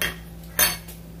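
A utensil stirs three beaten eggs seasoned with salt and turmeric in a bowl for an omelette. Two or three quick, close clinks and scrapes sound over a quiet background.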